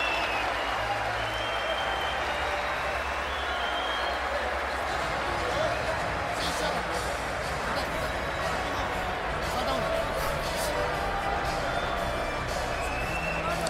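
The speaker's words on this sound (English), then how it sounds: "Crowd roars. They think Provodnikov won the 11th." Boxing arena crowd at the Lucas Matthysse vs Ruslan Provodnikov fight roars and applauds in a dense, continuous wash of cheering and clapping, with a commentator's voice running beneath the noise throughout.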